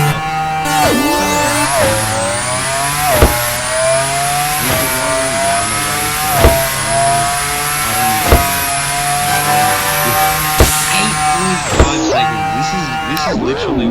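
A hypercar in a Roblox racing game revs hard and drives, its engine pitch climbing and holding at a high whine, with sharp dips at gear shifts and a final deceleration, loud and alone.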